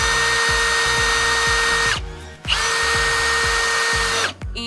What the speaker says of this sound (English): once you drill your holes